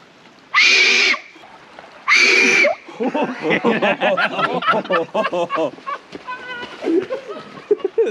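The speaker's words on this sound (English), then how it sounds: "Little Aztec death whistle." Two loud, harsh, screeching wails from an Aztec death whistle ring out one after another in Cannock Chase forest, followed by excited overlapping voices and laughter.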